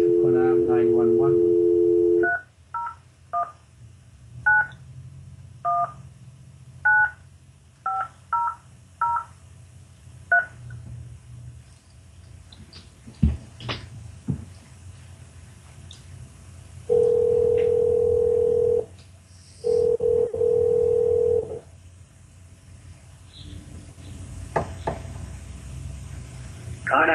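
Telephone keypad tones sound during a Persian-language TV call-in show: a rapid series of short, loud DTMF beeps dialing a number, followed later by two long steady tone bursts, with a host's voice speaking in between.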